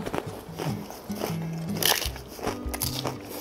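Deep-fried noodles at a chicken restaurant are snapped and broken by hand, giving a run of close, crisp crackling crunches and brittle snaps.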